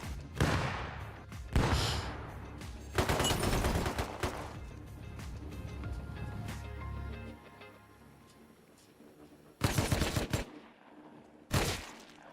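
Video game gunfire aimed at a turret comes in rapid bursts: two short volleys, a longer rattling stretch, then a fading tail, followed by two more sharp bursts after a lull.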